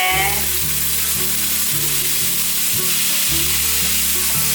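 Carrot, shiitake mushroom, yellow bell pepper and tomato are stir-fried quickly in hot oil for a vegan home dish. A loud, steady, close sizzle runs throughout, broken by regular scraping stirs and no talking.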